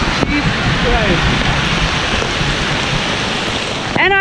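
Hail pelting down on a bike tour through Texas makes a loud, dense, steady roar of hissing patter throughout, with a brief voice cutting in near the end.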